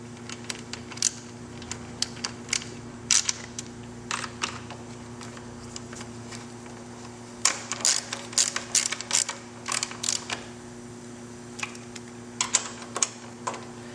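A fancy quick-spinning ratchet with a 10mm socket tightening bolts on a cross-country bike's lower suspension link, giving rapid clicking runs in irregular bursts, close up over a steady low hum.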